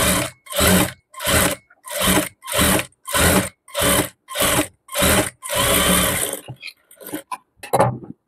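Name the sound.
sewing machine stitching lace onto a frock neckline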